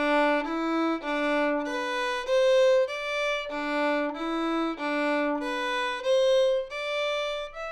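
A solo fiddle plays the second ending of a tune, a clear bowed melodic phrase of connected notes stepping up and down, played alone and close.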